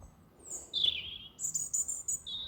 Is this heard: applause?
no